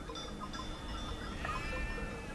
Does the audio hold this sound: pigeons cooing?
no